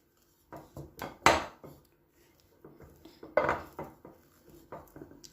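Wooden spoon knocking and scraping cooked cocoyam in a pot, a few sharp clacks in two bursts separated by quieter gaps, close and fairly soft.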